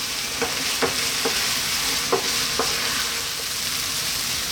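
Steady close sizzling of ground beef frying and drying out in a pan, with a few soft scraping stirs of a utensil, no voices.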